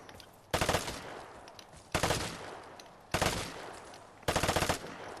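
Automatic gunfire in the online shooter Vigor comes in four short, loud bursts of rapid shots, each followed by a fading tail of echo across an open outdoor map.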